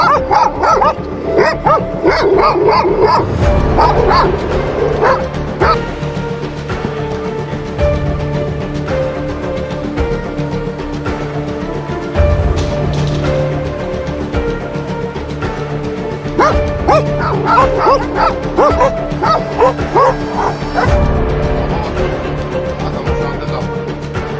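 A pack of stray dogs barks and yips continuously in an outdoor area, loud overlapping barks from several animals with occasional whimpers, sustained throughout.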